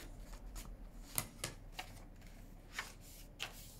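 Quilt foundation paper folded back along a ruler, giving soft crisp crackles and taps in a few separate bursts, close and faint in a quiet room.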